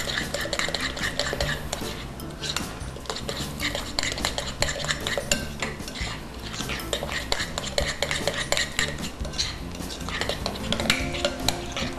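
A spoon or whisk clatters and scrapes around a bowl as pancake-style batter with buttermilk and a little cider vinegar is mixed, a busy rhythmic clinking heard up close, with faint talking.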